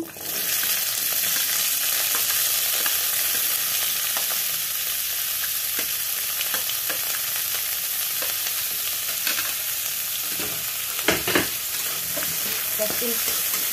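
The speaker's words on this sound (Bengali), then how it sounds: "এর মধ্যে সবার আগে ক্যাপসিকামটা দেব।" Capsicum sizzles in a hot pan with a constant frying hiss, and a spoon stirs and scrapes against the pan now and then.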